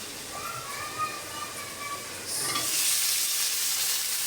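Tomatoes go into a hot frying pan with turmeric, chili and coriander powder, and a sudden loud, steady sizzle bursts up midway after a quieter stretch of faint pan noise.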